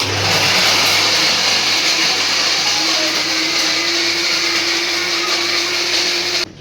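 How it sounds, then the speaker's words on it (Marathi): A kitchen mixer grinder grinds torn chapati pieces with a loud, continuous motor whine and whirring blades that run steadily, close by, and then cut off at the end. "तर आता मी चपात्याचा तुकडं करून मिक्सरला फिरवणार"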